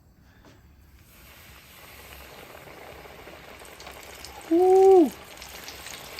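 Chicken thighs deep frying in oil in a cast iron skillet set on an outdoor griddle give off a steady low sizzle, with a short whoop of a voice near the end.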